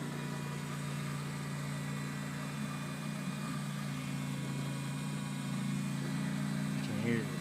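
A fuel pump runs with the key on in park in a 2000 Toyota Tundra with strange electrical behaviour, producing a steady, low mechanical hum that drones on evenly throughout.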